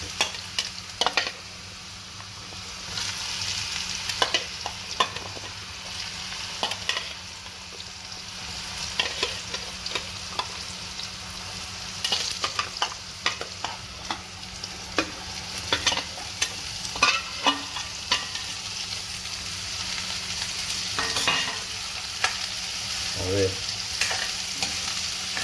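Chopped bottle gourd stirred in hot groundnut oil with asafoetida, a steady close sizzle with repeated scraping and clinking spoon strokes throughout, no voices.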